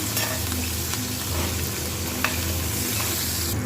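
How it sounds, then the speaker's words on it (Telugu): Dried red chillies, garlic and curry leaves with cumin fry in hot oil, giving a steady, close sizzle with light stirring scrapes throughout and no talking. "ఎండుమిర్చి నెక్స్ట్ వెల్లుల్లి నెక్స్ట్ కరివేపాకు ఇవి వేసి మనం బాగా ఫ్రై చేయాలి"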